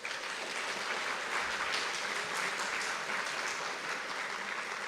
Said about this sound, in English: So give give yourselves a round of applause